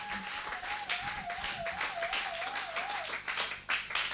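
A church congregation claps steadily and loudly together. A sustained wavering whistle or voice rides over the applause, and faint voices sit underneath.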